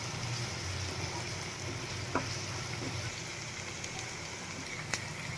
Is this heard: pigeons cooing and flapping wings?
no